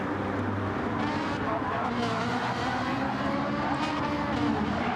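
Ferrari race car in a sim racing video game, engine revving and droning continuously with tyre noise, heard steadily under a commentator's voice.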